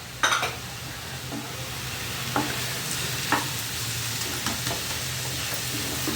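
Minced mutton keema fries with chili powder, salt, coriander powder and garam masala in a pan, a steady close sizzle broken by a few sharp spoon scrapes and taps as it is stirred.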